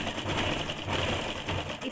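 Sewing machine stitching lace onto a saree-matching blouse, a close, loud continuous whirring drone with a quick rhythmic chatter of the needle and no voices.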